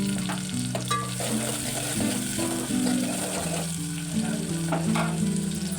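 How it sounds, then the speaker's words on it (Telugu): Onion and coriander leaves fry in a pan with a steady, close sizzle under background music, with no talk heard. "ఉల్లిగడ్డ అయితే వేగింది. కొద్దిగా కొత్తిమీర వేసుకుంటున్నా."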